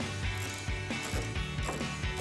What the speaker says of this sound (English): I'll just use my socket with the washer on it